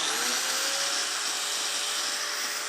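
A steady, close, high-pitched whir comes from an angle grinder spinning while powered by an Oukitel P2001 2000 W power station, with a brief pitch rise at the start and no voices.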